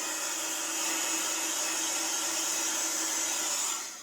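Steady, loud whoosh of a heat tool blowing hot air to dry ink on a papercraft card, a continuous airy roar lasting several seconds before easing off at the end.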